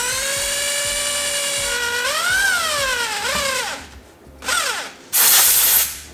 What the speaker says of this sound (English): drill the hole in the side wall until it passes through the collar